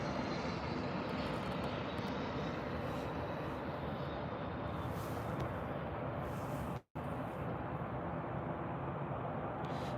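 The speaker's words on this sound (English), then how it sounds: "The lovely Embraer ERJ from Loganair from Aberdeen." A Loganair Embraer ERJ jet from Aberdeen roars at Birmingham airport. The engine noise is steady, loud and broadband and lasts throughout, broken only by a brief dropout near the end.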